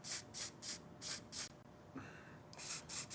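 Fluid Film lubricant sprayed from an aerosol can onto axle splines during an off-road vehicle repair: a series of short, close hissing spray bursts in a steady rhythm, with a brief pause midway.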